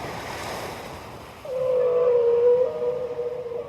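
Ocean surf rolls in a steady wash, then a long, clear tonal orca call rises over it and holds before fading, with wind-like noise behind.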